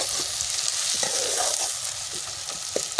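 Onions with ginger-garlic paste sizzle steadily in a pan for a dish of bitter gourd and chana dal, with a few louder crackles and stirring scrapes over a continuous frying hiss.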